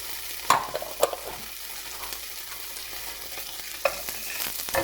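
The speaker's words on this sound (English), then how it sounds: "now that this thing is sizzling, this thing is still cooking" A leftover burger patty sizzles steadily in a hot pan, with a constant crackling hiss broken by a few louder scraping stirs.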